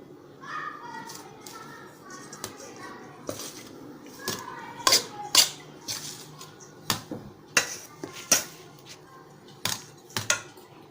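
A spoon stirs chana dal ladoo mixture with cardamom powder in a pot, scraping and clinking in irregular sharp knocks against the metal, close and moderately loud.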